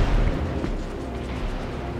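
A torpedo hit in a naval warship video game lands as a deep, rumbling explosion, loud and sustained for about two seconds.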